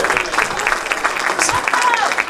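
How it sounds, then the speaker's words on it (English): Audience applause after a dance performance at a cultural festival, a steady wash of clapping from a crowd with some cheering voices mixed in throughout. "Keep that round of applause going."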